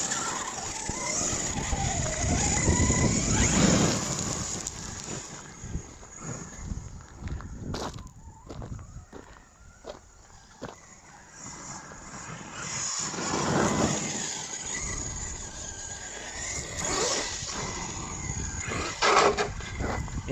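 A Hobao Hyper MT brushless RC monster truck runs on smooth tarmac and gravel, its electric motor whining up and down through bursts of full throttle, with crunching tyres and scattered clatter, fairly close and loud.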